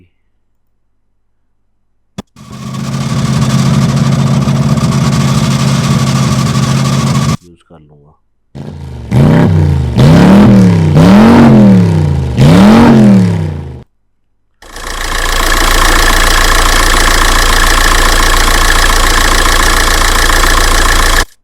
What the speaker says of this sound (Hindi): और यहाँ से मैं कार साउंड सेलेक्ट करता हूँ